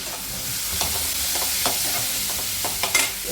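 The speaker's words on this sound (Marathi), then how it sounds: "त्याच्यामध्ये मी आता टॅमॅटो टाकून घेते" Chopped tomatoes sizzle and fry in hot oil with fish curry masala in a pan, stirred with a spoon that scrapes and clatters in irregular strokes over a steady frying hiss, close up with no talking.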